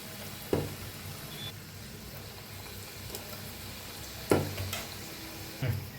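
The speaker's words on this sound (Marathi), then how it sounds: "बघा किती छान तळायला लागले" Vada pav potato fritters deep-frying in hot oil give a soft, continuous sizzle with a few louder bubbling bursts and clatters now and then, fairly quiet overall.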